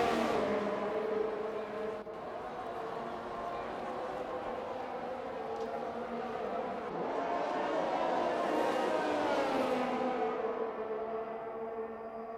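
Formula 1 cars in a racing video game, a Haas closing on an Alfa Romeo at Brazil, roar continuously with rising and falling engine pitch as cars pass, under steady commentary.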